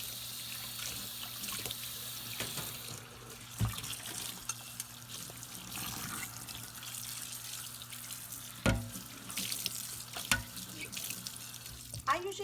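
Tap water running steadily into a single kitchen sink while dishes and spatulas are rinsed, with trickling, splashing and a few clunks of dishware, close and moderately loud.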